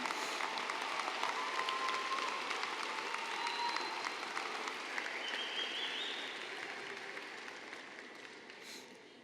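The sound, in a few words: applause for graduates' parents at commencement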